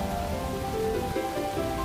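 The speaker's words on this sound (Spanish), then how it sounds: "Golpeteaba sobre la capucha amarilla del impermeable, sonando a los oídos del niño como lluvia sobre el tejado de un cobertizo." Steady rain falls and patters on a surface, a dense, even hiss with faint low rumbling beneath, moderately quiet and continuous with no voices.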